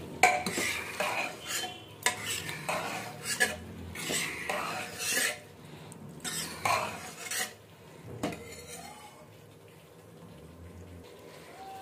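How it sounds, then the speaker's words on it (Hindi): A spoon stirs mixed potatoes, peas and cauliflower in oil in a cooking pot, with repeated scraping clatters against the metal in irregular bursts, fairly close and moderately loud, then quieter toward the end. "इसको अच्छे से चला लेंगे।"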